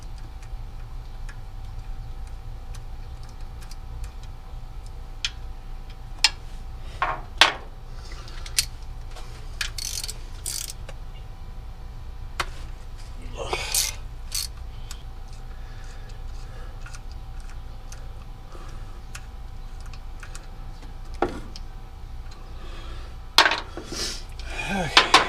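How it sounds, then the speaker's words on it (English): A wrench works the two bolts out of a truck's thermostat housing, giving faint intermittent metallic clicks and ratcheting ticks over a low steady background hum, with a few louder clanks. "Take these two bolts out of the thermostat housing."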